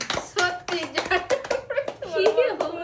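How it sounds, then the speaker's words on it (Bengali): Several sharp hand claps ring out close by in quick, uneven bursts, mixed with lively talk from an adult and children at a small game played for a prize of fried snacks. "হাততালি হাততালি হাততালি"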